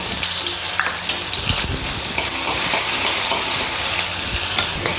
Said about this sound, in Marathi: ती छान तडतडू द्यायची काही मेथी दाणे टाकते आणि जो हा टेचा तयार केला होता ठेचा तो टाकून घेते